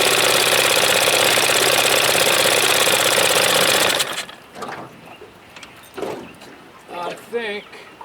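A 1976 Evinrude 25 hp outboard motor runs roughly on one cylinder, loud and close for about four seconds before stopping, followed by someone talking.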